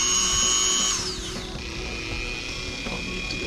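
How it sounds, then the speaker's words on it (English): A handheld power drill whines at a steady high pitch while drilling a hole, then winds down sharply about a second in and settles to a lower, quieter hum. "I support it with my other hand when I'm drilling"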